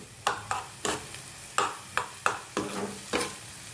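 Onion and capsicum sautéing in a pan, with a steady sizzle broken by about ten sharp stirring scrapes and clinks from a spoon at an irregular rhythm, close up and with no talk.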